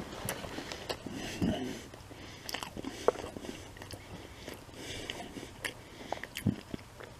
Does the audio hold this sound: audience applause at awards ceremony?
no